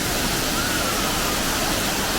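Adyar waterfall near Mangalore roars as a loud, constant broadband rush of falling water, filling the whole moment without a break.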